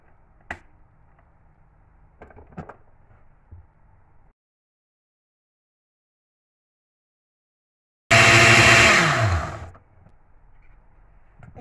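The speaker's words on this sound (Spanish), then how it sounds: "todo esto vamos a licuar" Kitchen blender blending oil and marinade ingredients for Peruvian rotisserie chicken gives a single loud, close burst of whirring roar lasting about a second and a half. It winds down quickly and is set among quiet clicks and handling noises.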